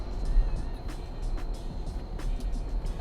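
A Jeep Grand Cherokee WK2 with shaking brakes drives along with a steady low road rumble and tire noise, punctuated by a few brief clicks and knocks as it slows.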